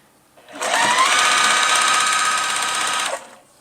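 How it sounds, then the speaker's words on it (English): A sewing machine runs a back stitch on an ironing board cover, one continuous close whir lasting about two and a half seconds, starting and stopping cleanly amid near silence. "So I'll just do a couple back stitches at the beginning"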